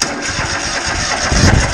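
A Husqvarna engine with the choke on, powered from jumper cables, turns over and catches in a short rough burst, loud and close with no talk.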